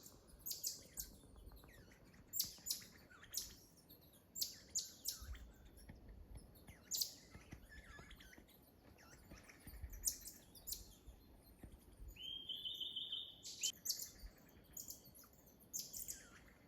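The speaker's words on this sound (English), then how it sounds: "Just saw quite a few birds come through." Several birds chirp and call in a tropical rainforest on a jaguar trail after rain, with scattered short tweets near and far over quiet background hiss and a brief steadier trill late on.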